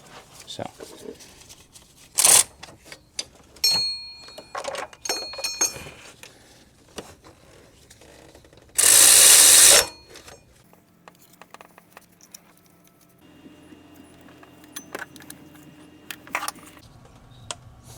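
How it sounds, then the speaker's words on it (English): Tools clinking and rattling while a power steering pump is bolted back into a 2011-2017 Honda Odyssey, scattered metallic taps and one loud burst of ratcheting or rattling midway. "you start to bolt everything back up"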